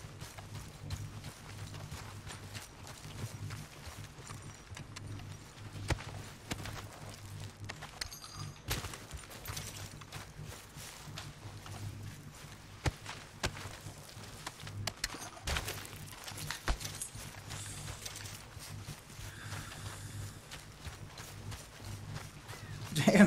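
Horse hooves clip-clop steadily in Red Dead Redemption 2, a continuous rhythmic trot under a busy game soundscape with a low, constant hum.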